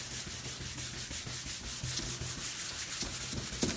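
Wax is buffed onto a surface with steady, rhythmic rubbing strokes that run continuously and fairly quietly, with no talk over them.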